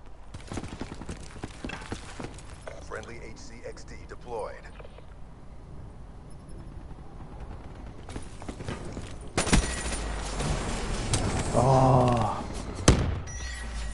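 FFAR assault rifle fire in a first-person shooter video game, rapid bursts of shots with footsteps and game noise throughout, growing louder and denser toward the end with a voice talking over it.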